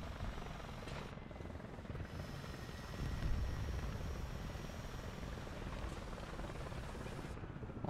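A helicopter flies past in the War Thunder video game at night, its steady rotor and engine drone filling the scene at a constant loud level, with a slight swell midway as it passes.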